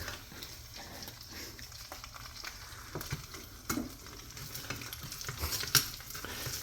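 Egg frying in grease in a pan alongside beef, bacon and sausage, a steady close sizzle with scraping and stirring of a utensil against the pan, rising briefly near the end.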